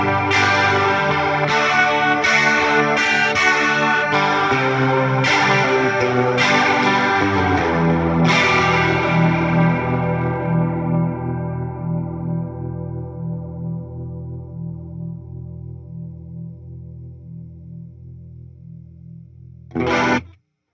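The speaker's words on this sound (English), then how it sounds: "Orbit Stereo Panner simulates the sound of a guitar signal being panned in stereo" Guitar run through the Orbit Stereo Panner modulation on a Fender Tone Master Pro, with strummed chords swirling loudly at first, then one long chord slowly decaying into near silence before a brief final burst.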